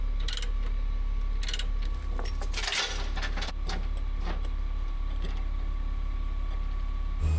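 Chains and a binder rattle and clank while a loaded trailer is chained down, with a burst of jangling metal links and clunks over a steady low engine rumble, close and without speech.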